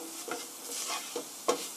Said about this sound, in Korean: 노릇노릇하게 맛있게 볶아주시고요.